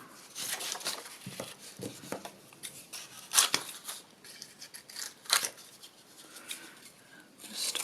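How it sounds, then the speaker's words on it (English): Scissors snip repeatedly and unevenly while roughly trimming around handmade paper tags, close to the microphone, with crisp cuts and rustling paper between them and no talking. "Just roughly cut round them, just to get the excess away"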